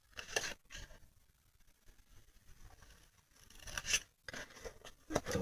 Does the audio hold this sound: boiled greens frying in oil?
no